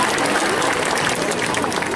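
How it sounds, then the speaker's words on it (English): An audience claps and cheers at a show in a safari park, dense steady applause throughout with crowd voices mixed in. "Lots of clapping, cheering"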